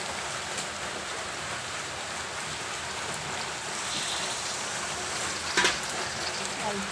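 Water poured into a pan of chicken, potato and green papaya cooking down gives a steady hiss and bubbling sizzle throughout, with a brief louder splash near the end.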